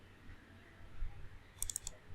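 Mouse clicks during computer modelling work, a quick cluster of four or five faint, close clicks near the end over a quiet room hum.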